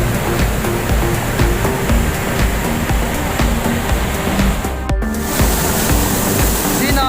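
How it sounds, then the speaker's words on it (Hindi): Fast water pours down in the BRB canal near Kasur, Pakistan, making a loud, unbroken rushing roar close by, with a brief dip in the middle before the steady wash resumes. "इधर से पानी गिर रहा है, तो पानी की स्पीड है वो देखो बहुत ज़्यादा है"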